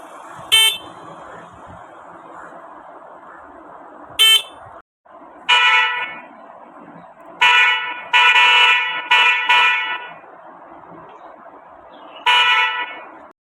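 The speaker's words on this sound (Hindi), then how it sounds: "शाम को खुले वातावरण में गाड़ियों के हॉर्न ही ज़्यादा बजते हैं" Vehicle horns honk repeatedly on an open evening market street, short and longer blasts scattered over a steady background murmur of traffic, fairly close and loud.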